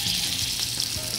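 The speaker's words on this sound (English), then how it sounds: "You hear that sizzling sound." Faroe Island salmon, skin on, searing in a hot frying pan, giving a steady close sizzle and crackle that fills the short moment with no talk over it.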